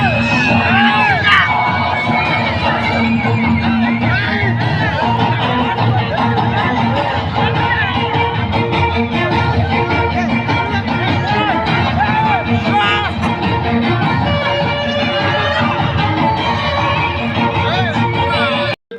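A large circus audience cheers, whoops and shouts steadily throughout, children's voices prominent in the dense, continuous crowd noise, with clapping likely mixed in at full volume to the end.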